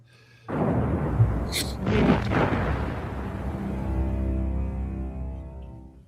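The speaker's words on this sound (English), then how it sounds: "Jason is oblivious to the muffled sounds of explosions, traces of the demolition going on outside." A deep, muffled boom rolls in and rumbles on, followed by a long low roar that slowly fades, like distant demolition blasts heard from indoors.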